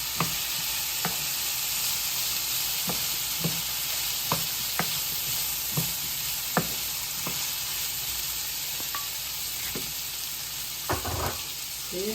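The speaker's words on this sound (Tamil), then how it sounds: "பொரிச்சு வச்ச சிக்கனை இதில் மிக்ஸ் பண்ணுறேன்" Fried chicken is stirred into a sautéed mixture in a pan with a steady, soft sizzle, punctuated by a dozen or so light scraping and clinking strokes of the spoon against the pan.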